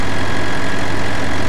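A Bobcat skid-steer loader idles on a farm while silos are emptied at harvest time, giving a steady, close, low rumbling drone with no change in pitch and no voices.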